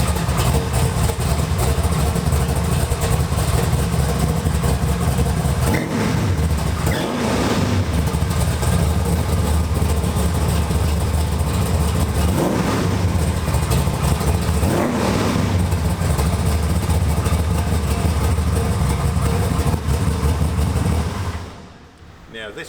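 A classic drag car engine runs loudly and continuously at close range, with a rough idle broken by several revs before cutting off near the end.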